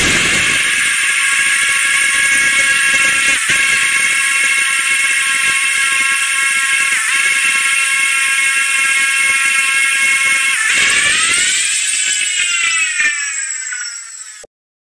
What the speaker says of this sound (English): This is what a particle accelerator actually sounds like.